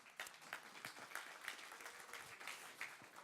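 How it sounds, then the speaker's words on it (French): Audience applause after a request for encouragement at a DevOps tech talk; a moderate, steady patter of many hands with a few sharper individual claps standing out, fairly quiet and heard without voices. "en applaudissant, s'il vous plaît"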